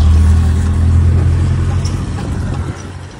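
A car engine hums low and close from inside the vehicle while driving, a steady rumble that eases slightly toward the end.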